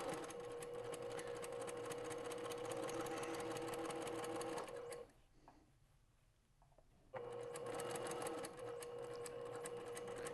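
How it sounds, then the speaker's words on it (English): Sewing machine basting fabric for a scrub cap, a steady close mechanical whir that runs for about five seconds, pauses for two, then starts again and continues to the end. "We're just basting this into place right now."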